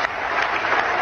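Audience of West Point cadets applauding, a dense, loud wash of clapping that fills the whole moment without a break.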